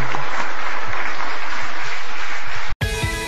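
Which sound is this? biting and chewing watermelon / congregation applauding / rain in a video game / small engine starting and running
congregation applauding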